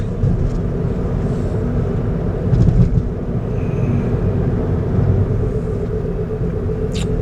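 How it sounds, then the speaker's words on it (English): Steady low rumble of morning road traffic heard from inside a moving car, a continuous engine and road drone with a slight swell near the middle and no voices. "Traffic is really picking up because people are going to work."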